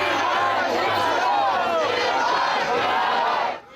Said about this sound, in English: Hundreds of people chanting, "Leave our kids alone," squared off with counter-protesters shouting, "Love is louder."